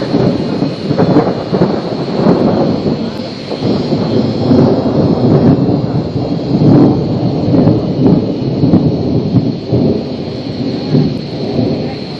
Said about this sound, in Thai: ตอนนี้เราต้องมาหลบฝนอยู่ในกระต๊อบแล้วนะครับ